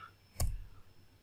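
A single sharp computer keyboard keypress, the enter key struck once, clicks near and clear against a quiet background.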